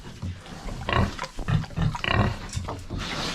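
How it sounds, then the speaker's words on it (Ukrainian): Piglet on a small household farm grunting in a series of short, close, fairly loud snorts and squeals with brief pauses between, no talk over them. "Порося."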